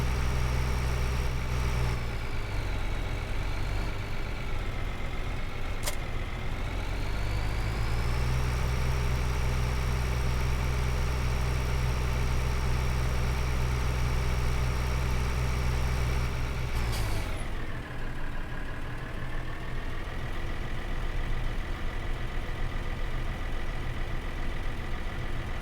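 A tractor engine idling in Farming Simulator 2013, a steady low droning rumble with a brief pitch dip and rise, continuous and alone with no talk.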